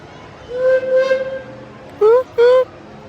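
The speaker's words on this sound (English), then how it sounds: "That's the sound of the train." A Disneyland park train sounds its whistle: drawn-out tones, then two short, loud toots close together, over outdoor crowd ambience.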